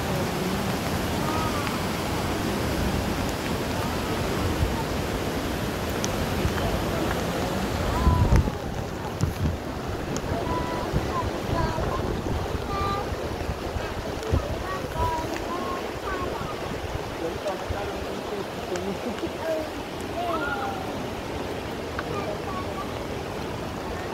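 Loud, steady rush of water fills the whole stretch, a broad continuous roar with wind buffeting the microphone, at an outing spot in Tehran; voices talk faintly underneath.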